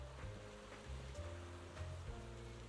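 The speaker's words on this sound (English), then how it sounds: "It's got wind, waves, a wide open beach, and plenty of sunshine." Gentle ocean surf washes onto a wide open beach in Zenless Zone Zero, a faint, steady rushing hiss over a low, looping ambient hum.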